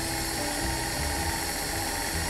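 A stand mixer slowly working gluten-free shortbread dough, a loud, steady motor whir with a constant mechanical drone and no pauses.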